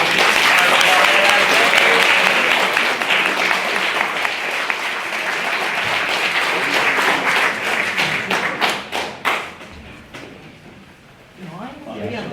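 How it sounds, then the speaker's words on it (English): A debate-hall audience gives a long, loud round of applause for one side's speakers. It thins to a few scattered claps and stops, then a voice begins speaking. "Can we have another big round of applause for this side?"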